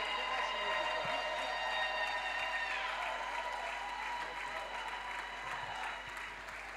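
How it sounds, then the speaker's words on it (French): A church congregation at a Sunday fertility covenant service applauds steadily and loudly, a dense wash of clapping that fills the room, with sustained musical tones and voices mixed in. "acclamons pour le Seigneur"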